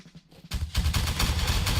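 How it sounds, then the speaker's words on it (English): Artillery fire erupts in a video game battle after a brief quiet moment, a dense barrage of booming blasts that rolls on loud and continuous, with no voices. "here comes the artillery fire"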